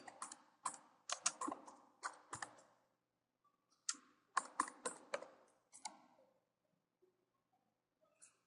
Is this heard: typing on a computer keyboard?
yes